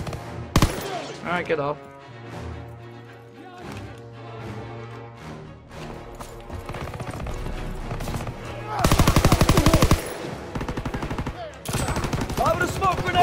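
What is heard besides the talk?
gunfire in Call of Duty: WWII video game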